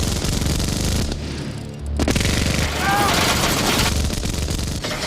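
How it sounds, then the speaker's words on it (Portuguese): Rapid minigun fire from the 1991 film Terminator 2: Judgment Day, loud continuous bursts with a brief lull midway, mixed with film sound and crashing effects. "Ele sai metralhando o joelho das pessoas."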